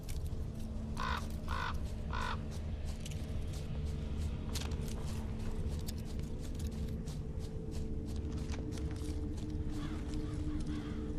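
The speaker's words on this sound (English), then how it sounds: "All I gotta do is follow the cawing." Crows cawing in The Witcher 3 video game, a few harsh caws early on over a steady ambient game drone, with scattered faint bird calls afterward.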